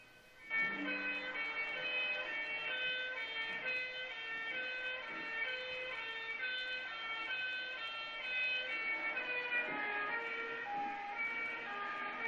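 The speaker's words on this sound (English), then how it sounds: "the fire truck is going to sound weird is it's a British fire truck" A British fire truck's siren wails through repeated rising and falling tones as the vehicle passes, holding steady and fairly loud throughout, with faint road noise beneath and no voices.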